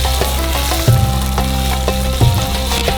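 Onions and tomatoes sizzle loudly in butter in a very hot skillet in a small kitchenette, a steady close frying hiss with a couple of brief stirring bumps.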